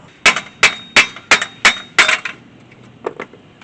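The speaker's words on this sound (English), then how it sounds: "What you're going to have to do is hammer it out." A hammer pounds a stuck rear wheel hub and bearing out of the backing plate on a 2011 Toyota Sienna, six loud, evenly spaced metallic strikes followed by a few lighter clinks.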